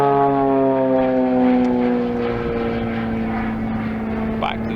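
Aerobatic propeller aircraft performing a freestyle routine at an aerobatics championship, its engine droning loudly with strong harmonic tones that waver and shift in pitch as the throttle is pumped, a continuous close roar.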